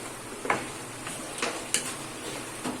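Cluster beans and potato sabzi with garam masala sauté in a pan, with a faint steady sizzle and several spaced spatula scrapes and clicks against the pan.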